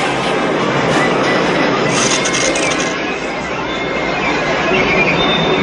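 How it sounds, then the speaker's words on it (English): A train rushes along the tracks, a loud, steady roar with rattling wheels and faint metallic squeals. "Lois boards a train that quickly speeds up"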